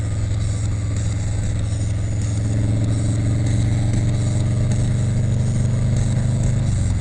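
A motorcycle gathers speed toward highway pace, its engine hum climbing steadily under a heavy, unbroken rush of wind and road noise, with faint music playing.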